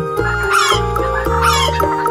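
A hen clucks repeatedly in a rhythmic, close-up series of loud, throaty calls with no talking.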